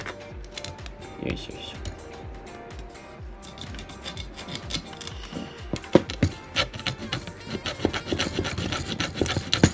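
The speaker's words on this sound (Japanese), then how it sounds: "ハサミとかでね、削ぎ落としていきます。" Scissors scraping degraded light-seal foam off an old rangefinder film camera, a steady dry rasping and scratching close up with quick repeated strokes, growing busier toward the end, while a voice murmurs softly underneath.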